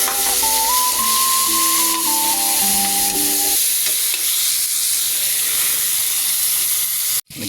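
Loud steady sizzle of tomatoes, garlic and onion sautéing in a pan for mussels, with music playing over the first half before the frying carries on alone.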